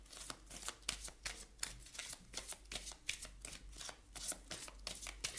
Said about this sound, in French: On va regarder maintenant justement au niveau des cartes lumière de Lise Bartoli